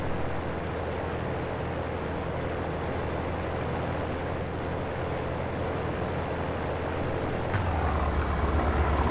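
A Fiat G.55 fighter's piston engine runs loud and steady on the runway in IL-2 1946, a constant droning roar that deepens and swells near the end as the throttle opens for takeoff.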